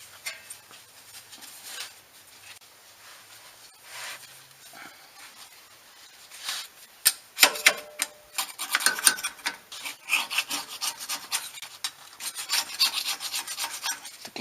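Hand tools scrape and rasp at the mating surface of a Ford F-150 rear differential cover, starting soft and sparse, then growing into louder, rapid, gritty strokes in bursts, close by with no speech.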